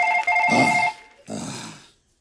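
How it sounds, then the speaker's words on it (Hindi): A phone rings with a steady electronic tone, cut off by a sigh-like breath and then another short breathy sound. "वो फोन है, फोन।"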